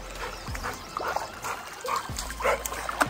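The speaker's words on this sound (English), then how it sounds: "That's my dog." A dog's faint whimpers and snuffles over a light trickle of water, soft and close, with low talk in the background.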